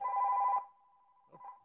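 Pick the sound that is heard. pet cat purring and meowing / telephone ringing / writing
telephone ringing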